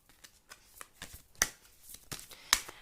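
Tarot cards are handled and shuffled during a love reading, a close run of soft riffling slaps and flicks with two sharper snaps, no voice over them.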